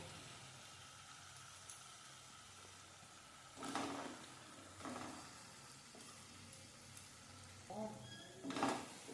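Fried potatoes are tipped into hot spiced oil in a pan and stirred, bringing a low background sizzle with several bursts of scraping and clattering as they land and get turned, with no voices.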